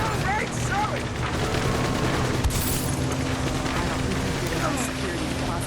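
Continuous gunfire and explosive booms from Uncharted: Drake's Fortune, a dense, sustained barrage of shots and blasts filling the scene, with a brief sharp burst near the middle.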